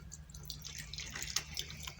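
Water is poured over dark rust-brown boron thermite residue in a small container, giving light splashes and dripping trickles that sound close and fairly quiet, with a low steady hum underneath.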